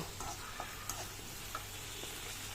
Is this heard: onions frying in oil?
yes